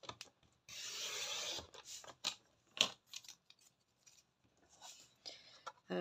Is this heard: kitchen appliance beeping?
no